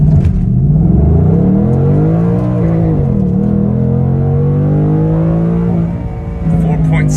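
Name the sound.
2021 Ford Mustang Mach 1 launching and accelerating, drag mode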